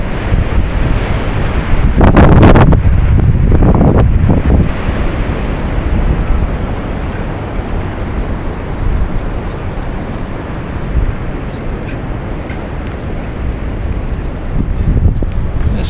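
Steady heavy roar of water rushing over a river lock and dam, loud and constant with wind buffeting the microphone, swelling briefly in gusts near the start and at the end.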